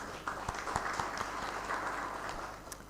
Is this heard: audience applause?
yes